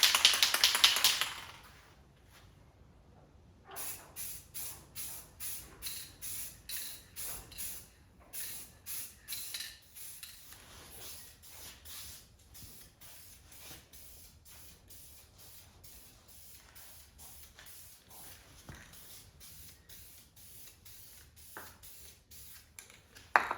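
Primer coat goes onto a 1971 Monte Carlo SS454 from a spray gun: a loud hissing blast at the start, then a steady series of soft pulsing spray passes at a quieter level, with no voices.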